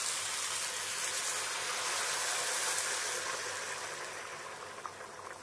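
Loud, steady hiss and sizzle as water hits hot oil in a pan with garlic and ginger, slowly fading toward the end.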